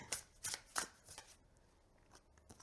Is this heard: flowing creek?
no